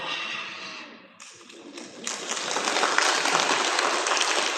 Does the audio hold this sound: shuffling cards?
no